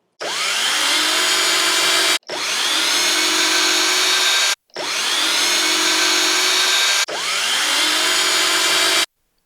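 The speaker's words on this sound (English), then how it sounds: "I'll take my drill with the 1/8 drill bit" An electric drill fitted with a 1/8 bit bores pilot holes into the bottom track of a mirrored closet door, four loud, even whirring bursts, each ending abruptly before the next begins.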